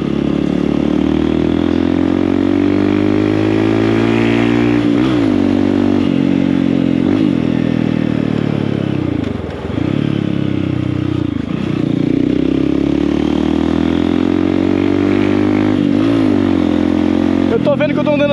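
A motorcycle engine runs loud and steady while riding through city streets, with repeated dips and rises in revs as the rider slows and speeds up, and a rider talks over it.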